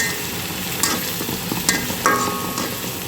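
A ginger-garlic spice paste fries in mustard oil with a continuous sizzle, broken by a few sharp scrapes and clicks of stirring in the pan.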